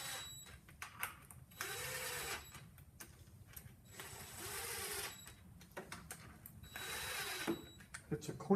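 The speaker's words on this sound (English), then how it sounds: "I use a little electric impact driver just to save time" Small electric impact driver running down bolts on a cork gasket during a Land Cruiser transfer case rebuild, three separate bursts of whirring rattle, each about a second long, with clicks and handling noise between, close and quiet.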